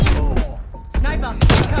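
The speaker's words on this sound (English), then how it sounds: "Enemy sniper shooting." Enemy sniper fire in the Call of Duty video game: a few sharp, loud shots cracking out in quick succession, close and heavy, with voices talking over and between them.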